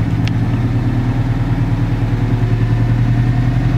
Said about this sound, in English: Now it's learning how to idle